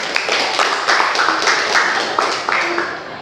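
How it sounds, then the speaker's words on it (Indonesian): A class applauds a student group's presentation at an automotive engineering teacher-training session: scattered, uneven clapping from several people runs throughout, with voices talking over it. "silahkan beri tepuk tangan untuk mereka"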